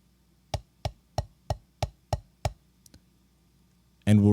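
A drum rudiment of double strokes followed by single strokes, played on a practice surface: seven crisp, evenly spaced hits, then two faint taps, before a voice begins speaking at the end.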